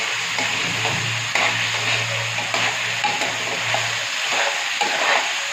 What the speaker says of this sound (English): So now again fry it